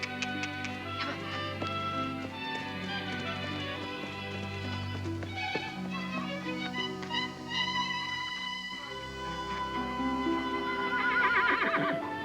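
Horses and foals neigh on a family farm, whinnies rising over a swelling orchestral score, louder and more insistent toward the end, with no talk.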